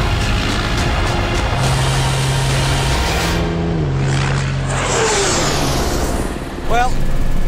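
A Volvo Iron Knight truck, billed as the world's fastest, pulls away at high speed with a heavy engine roar that slowly recedes beneath loud wind and rushing noise, with someone talking over it.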